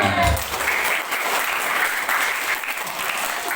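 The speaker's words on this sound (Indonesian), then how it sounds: "Oke, tepuk tangan." Elementary schoolchildren at an Islamic motivation session in their school clap together in a dense, lively burst that stays steady for a few seconds before it thins slightly.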